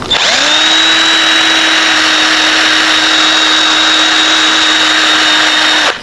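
Fine 1,000 to 1,200 grit sandpaper worked against an electric fan part during a repair, heard as a loud, continuous abrasive whirring hiss with a steady tonal whine, unbroken for about six seconds.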